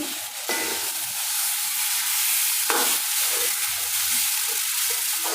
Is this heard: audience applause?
no